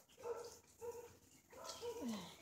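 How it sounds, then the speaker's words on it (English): Several dogs bark in short, separated bursts, about four yips and barks spaced across a couple of seconds, faint and somewhat distant, with no voices. "If you guys hear the dogs, just, I'm sorry that you have to listen to them."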